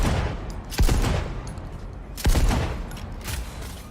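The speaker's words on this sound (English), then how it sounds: "This fucking shotgun sucks." Two loud shotgun blasts in Cyberpunk 2077, about a second and a half apart, each a sharp close report with a short rumbling tail over constant game ambience.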